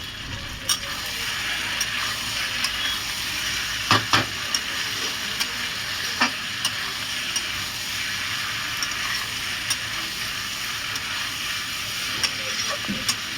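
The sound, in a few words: stirring country chicken curry with potatoes in a pan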